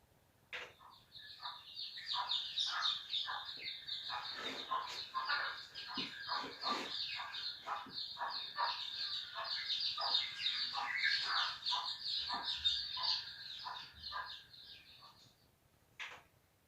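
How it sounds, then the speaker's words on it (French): Baby chicks cheeping in a rapid stream of high, thin peeps that repeat almost continuously for about fifteen seconds, clear and close against a quiet background. "des petits poussins qui piaillent, des petits poussins"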